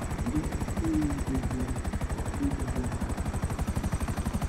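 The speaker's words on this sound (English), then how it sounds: "Wait, hard right, Alex, there's a helicopter" A helicopter in a video game makes a rapid, pulsing rotor thump in a fast even rhythm, with faint tonal whines rising and falling over it and no voices.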